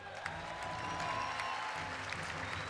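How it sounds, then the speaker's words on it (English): Steady applause from a large crowd at a Call of Duty esports grand final, a continuous rush of clapping heard at a moderate distance. "we should give a big round of applause"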